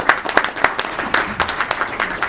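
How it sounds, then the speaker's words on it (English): Applause for high school students at a city council meeting, a modest group clapping with distinct individual claps audible, fairly close and continuous. "Let's give them another round of applause."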